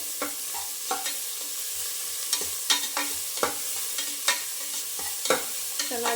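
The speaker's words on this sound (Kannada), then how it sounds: "ನೋಡಿ, ಈರುಳ್ಳಿ ಎಲ್ಲ ಫ್ರೈ ಆಗಲಿ ಚೆನ್ನಾಗಿ" Onions frying in a pan of oil for coconut rice bath, a steady hiss broken by repeated scraping clicks as a spoon stirs them, close and alone without talk.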